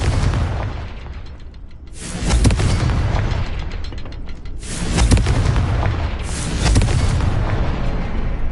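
Confringo spell explosions in the Hogwarts Legacy video game, three heavy booming blasts a few seconds apart, each with a rumbling decay, loud and close with no voices.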